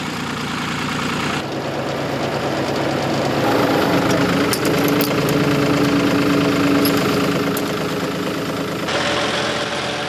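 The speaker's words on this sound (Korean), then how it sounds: "트랙터 운전은 기본, 능숙한 솜씨로 밭을 갈아냅니다." Tractor engine plowing a farm field, a loud, continuous mid-range diesel drone with a knocking rhythm that swells slightly in the middle and stays steady throughout.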